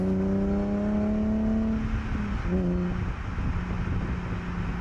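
A car with an epoxy-filled differential bushing pulls away gently under mild acceleration, its engine hum rising steadily in pitch, then settling into a broad, even drone heard from inside.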